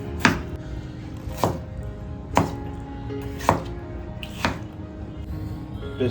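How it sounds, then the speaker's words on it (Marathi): A knife chops tomato and onion on a board in five sharp, evenly spaced thuds about a second apart, with wet squishy sounds in between and no voices. "टोमॅटो कापून घेतलाय कांदा कट करून झाला आहे"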